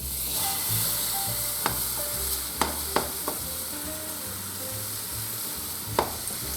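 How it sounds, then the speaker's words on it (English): Steady sizzling of crepe batter frying in a hot frying pan, continuous and close, with a few sharp clicks of a utensil. "Okay, the frying pan is hot. Now I will make crepes."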